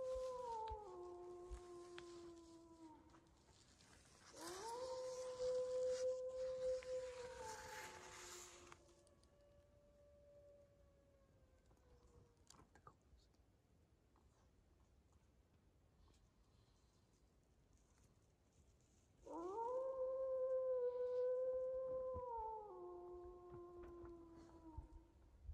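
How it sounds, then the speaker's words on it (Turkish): Wolf or jackal howling at night at a roadside tent camp after hail and heavy rain: two long, wavering, multi-voiced howls some distance away, separated by quiet, with no talk over them. "Kurt mu çakal mı anlamadım."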